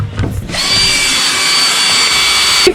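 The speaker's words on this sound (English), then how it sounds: "we ended up having to drill through them" A power drill bores through the floor of a van during a van build, running loud and steady with a high whine for most of the stretch after a brief start.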